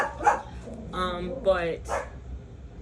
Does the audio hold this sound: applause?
no